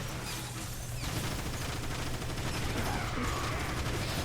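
Gunfire from an overheating weapon in Transformers: War for Cybertron, a steady mechanical rattle of rapid shots running continuously with clicking, ratchet-like texture throughout.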